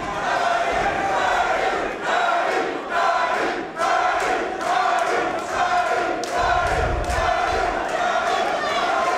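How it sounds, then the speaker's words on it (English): Crowd at a Lion Fighting Championships kickboxing event chants loudly and steadily in rhythmic waves, filling the hall throughout, with a commentator's voice partly under the noise. "The crowd are chanting there"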